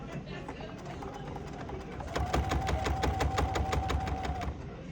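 A sewing machine stitches through layered hot pad fabric, starting with a soft run and then a steadier, rapid mechanical pulse for several seconds, with faint talk underneath.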